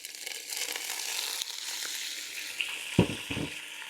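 Garlic and ginger frying in spiced oil for a spicy curry give a steady close sizzle with soft crackling, broken near the end by a couple of sharp thumps and scrapes from the pan.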